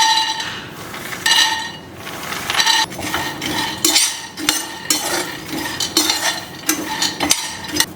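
Ingredients such as peanuts are stirred and dry-roasted in a pan for winter laddu, with repeated metal scraping and clinking of a utensil against the pan in an irregular, close rhythm, no talking.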